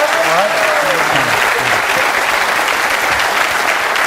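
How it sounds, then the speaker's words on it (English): A studio audience on a television debate show gives a contestant a loud, sustained round of applause, a thick and even roar of clapping that runs the whole time, with a brief tonal whistle-like sweep near the start. "Ladies and gentlemen, give Conor a round of applause"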